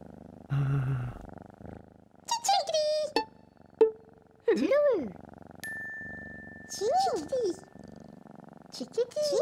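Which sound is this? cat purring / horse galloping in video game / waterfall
cat purring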